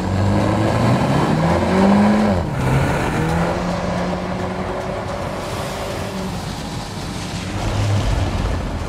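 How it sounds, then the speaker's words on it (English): A 2022 VW Golf R drifting in drift mode with torque vectoring, a steady loud engine roar with rising and falling revs and tire noise throughout, no talking. "The drift mode provides a lot of fun and allows the car to drift through torque vectoring."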